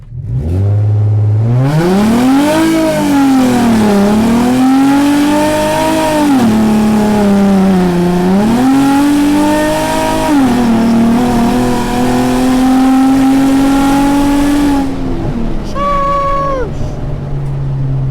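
An Infiniti G35 with a newly installed 30-row oil cooler revs hard on test drive pulls, its engine note climbing and dropping through several gear changes, loud and close, easing off near the end.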